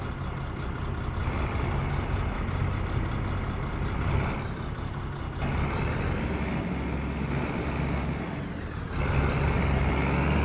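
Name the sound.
tractor engine revving in Farming Simulator 22 video game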